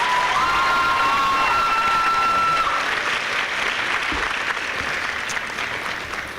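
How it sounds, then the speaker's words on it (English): Crowd at a medical school white coat ceremony gives a warm round of applause for parents, loud and sustained clapping that slowly tapers toward the end. "Let's please have a warm round of applause for our parents here tonight."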